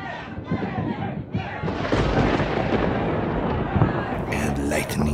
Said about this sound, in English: And lightning strikes.